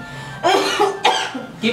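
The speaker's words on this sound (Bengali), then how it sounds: "এই কাশতেছিস কে?" A man ill with a high fever, lying in a home setting, coughs hard several times in quick succession, each cough close and loud.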